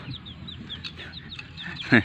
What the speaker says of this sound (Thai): เดี๋ยวเราจะมาเลี้ยงไก่กันดู